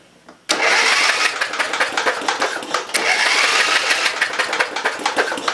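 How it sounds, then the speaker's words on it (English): An 11HP Briggs & Stratton engine with its spark plug removed is cranked by a bolted-on starter, a loud, close, rapid mechanical whirring chug that starts abruptly and runs steadily for about five seconds with rhythmic pulsing. "I'm gonna do a test crank and check for spark at the same time."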